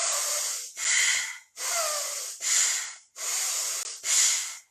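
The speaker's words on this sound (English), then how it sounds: "We're sort of hyperventilating here." Rapid yoga breathing at hyperventilation pace: six forceful, airy breaths, inhales and exhales alternating in a quick even rhythm, close and loud with brief gaps between them.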